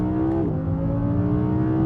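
Audi R8 V10, a naturally aspirated 610-horsepower engine, revs hard toward 8,500 RPM, a loud sustained howl with rising harmonic pitch, close and alone without talk.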